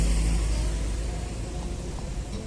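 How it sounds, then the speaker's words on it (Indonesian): A bus rolling past on a street in Kota Tua Jakarta, a low rumbling engine drone close by that slowly eases off, steady and without speech. "Ada bus, kita hati-hati."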